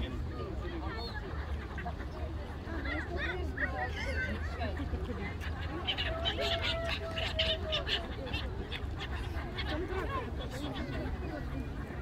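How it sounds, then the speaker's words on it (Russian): Hungry seagulls squabble over bread in Voznesenivskyi Park in Zaporizhzhia on City Day, a steady tangle of harsh bird calls close by against busy outdoor crowd noise, with people talking. "Чайки голодные."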